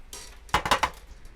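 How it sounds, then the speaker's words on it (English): Dried Kashmiri chilies stirred in a pan while dark-roasting curry powder: a short run of three or four quick clinks and scrapes against the pan, close and fairly crisp, with no talk. "Give them a little stir until they're blackened."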